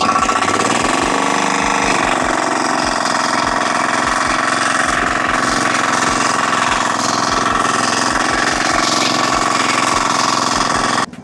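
A Firman FTL610W cultivator engine runs loud and steady in second gear while its rotary tines till fairly soft soil, with a constant close drone throughout until it cuts off at the end.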